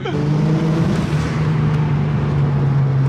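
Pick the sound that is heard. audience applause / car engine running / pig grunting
car engine running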